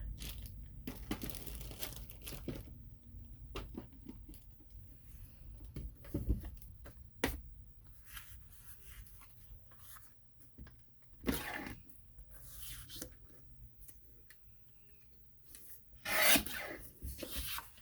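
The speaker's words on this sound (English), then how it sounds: "I'm just trimming it down so it's a little smaller." Scissors trim an index card, quiet and close. Scattered soft snips and rasping rubs are spaced out over the stretch, with a louder crunchy burst near the end and no speech.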